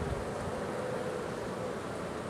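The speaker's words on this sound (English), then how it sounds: "These are really good tempered bees." Honeybees drone around an opened hive in a continuous, even low buzz with no clear individual passes, with a faint outdoor background under it.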